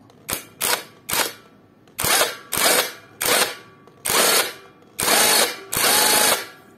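Imitation Makita impact wrench hammering in repeated short bursts, about nine loud rattling pulses that grow longer toward the end, close by and with no talking.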